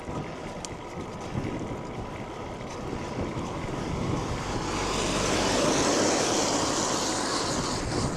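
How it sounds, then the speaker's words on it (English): Wind buffeting a microphone while riding a bicycle outdoors on road and gravel, a continuous rushing roar that swells louder toward the end, with no talking. "Oh yeah, I can feel the wind now."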